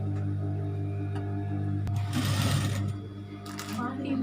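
Sewing machine running steadily while stitching fabric for a child's cap, a close, continuous mechanical whir with a brief surge of louder stitching midway; no talk over it.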